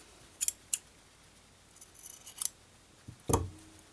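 Scissors snip craft yarn while trimming a small yarn baby owl, a few crisp separate cuts spaced through the quiet, with a louder final snip near the end.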